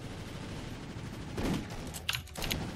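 Golden gun shots in the GoldenEye: Source video game, a few sharp cracks, moderately loud, over a busy background of game noise.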